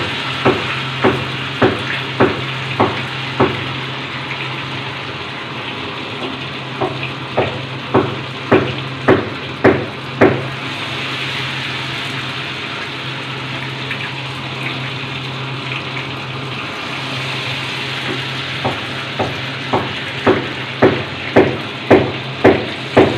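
Ghevar batter poured in a thin stream from height into hot ghee in a saucepan, giving a steady loud gushing sizzle broken by repeated rhythmic splashing pulses as each stream hits the fat, with no talking.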